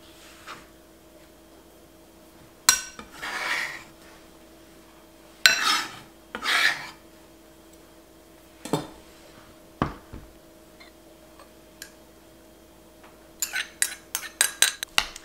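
Utensils scrape and clink against a bowl while chopped garlic scapes are mixed, sounding as scattered bursts of stirring with quiet gaps between them and a faster cluster of taps at the end, close and fairly soft.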